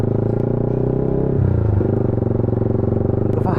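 Yamaha MT 15 v2 motorcycle fitted with an Akrapovic exhaust, revving loud and close with a steady throbbing idle, a brief throttle blip in the middle, then settling back to a rumbling beat.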